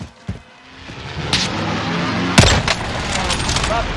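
Gunfire in the Call of Duty Warzone video game, with scattered sharp shots and a dense loud burst partway through, set against continuous battle noise and rumble.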